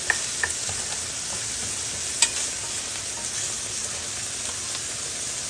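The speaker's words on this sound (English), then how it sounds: "We're going to let it toast up, get nice and golden." A little onion toasting in a small pan beside potatoes for a frittata, a continuous soft sizzle with a few light ticks and one brief clink, no voices.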